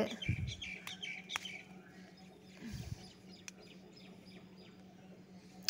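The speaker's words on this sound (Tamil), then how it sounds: "அந்த குருவியோட சத்தம்லாம் பயங்கரமாக இருந்துச்சு" Sparrows chirping in quick bursts, with a few sharp tweets and some low background rumble; chatter-like calls come and go, in a home garden.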